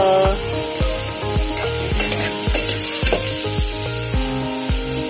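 Food browning in a hot pan for adobo, with a steady loud sizzle broken by a regular rhythm of scraping and stirring strokes from a utensil, continuous throughout and without talk.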